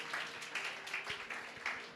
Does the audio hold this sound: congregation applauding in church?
yes